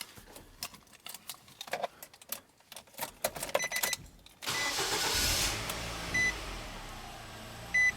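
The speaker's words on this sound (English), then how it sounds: "So let's start the engine." A car engine is started while headlights flicker, with an electrical connector and accelerator pedal disconnected: a quiet stretch with clicks gives way to the starter cranking, then the engine catching into a steady idle with faint beeps.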